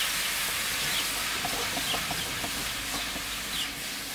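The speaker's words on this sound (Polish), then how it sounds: "I teraz moment, w którym podlewam białym winem." White wine splashes into a hot pan and sets off a loud, continuous hissing sizzle that holds steady and fades slightly at the end, heard close with no voices.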